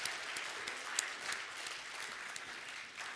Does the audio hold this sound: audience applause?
yes